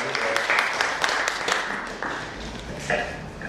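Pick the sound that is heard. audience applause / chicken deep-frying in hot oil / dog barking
audience applause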